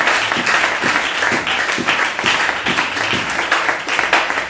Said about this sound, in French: qu'on peut maintenant acclamer pour Jésus.